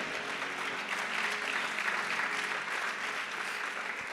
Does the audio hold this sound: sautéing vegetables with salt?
no